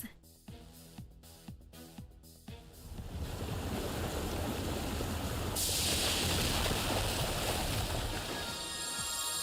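Rushing water in the Fate/Grand Order video game, starting after a few quiet tapping beats and swelling into a steady, loud wash of surf-like noise that holds to the end.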